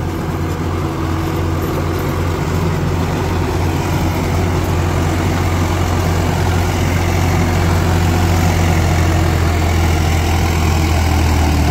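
Swaraj 742 XT tractor running an 8-foot rotavator in a field, a steady loud diesel drone with a deep low hum and constant churning texture.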